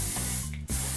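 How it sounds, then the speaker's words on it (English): Hairspray sprays onto hands in a steady, close hiss lasting most of a second, with a brief break near the end before the spray resumes. "what I like to do is actually spray my hands"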